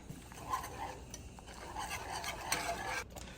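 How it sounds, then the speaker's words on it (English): A whisk scrapes and stirs through milk sauce boiling in a pot, with soft irregular scraping strokes and faint bubbling, close and fairly quiet with no voices. "As it boils and this starts to break up a little bit, we'll continue to whisk it"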